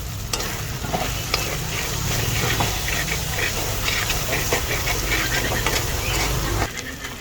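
Onion frying for a sayote dish with ground pork, a steady sizzle and hiss under repeated stirring and scraping that runs nearly the whole time, close and fairly loud.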